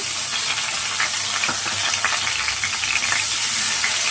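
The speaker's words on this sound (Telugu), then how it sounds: "రెండు స్పూన్లు ఆయిల్ వేసుకున్నాము ఇప్పుడు బిర్యానీ ఆకు వేసుకున్నాము ఇప్పుడు ఉల్లిపాయ పేస్ట్ వేసుకున్నాము" Onion paste with a bay leaf sizzling in two spoons of hot oil in a pan for a chole masala curry, a loud, steady crackle and hiss running throughout with scattered small pops and no talking.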